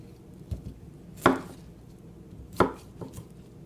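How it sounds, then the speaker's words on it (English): A knife cutting the bottom off a vegetable to separate small crowns, giving two loud, close chops on a cutting board plus a few lighter taps, with quiet pauses between. "cut off the bottom here so that we can get some little crowns. Just gonna cut."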